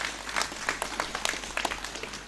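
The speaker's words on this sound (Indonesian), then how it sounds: "Tepuk tangan, tepuk tangan." An audience at a religious gathering claps together, a short burst of dense, fairly close applause with uneven sharp claps throughout.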